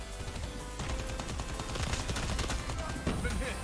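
Rapid automatic gunfire rattles in the video game Call of Duty Mobile, a dense stream of close, sharp shots running almost the whole time at moderate loudness.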